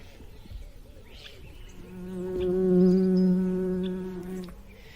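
A bee buzzes close by, a steady droning hum that swells louder for a couple of seconds and then cuts off, over quiet background with no talk.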